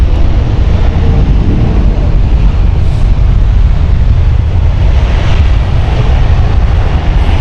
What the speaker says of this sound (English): that is a beautiful Finnair A350 taking off there